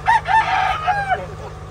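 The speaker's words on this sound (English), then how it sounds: "Be surrounded by roosters eating, especially out of my hand" A rooster crows once at close range on a farm in Valencia, Bukidnon, Mindanao, Philippines, a loud broken cock-a-doodle-doo lasting over a second, over a low steady hum.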